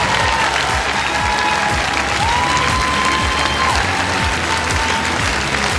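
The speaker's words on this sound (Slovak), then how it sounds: "Veľký potlesk aj tu v Incheba Expo Arena v Bratislave." Large audience applauding steadily in the Incheba Expo Arena in Bratislava at a televised talent show semifinal, dense continuous clapping throughout with a faint tone drifting above it.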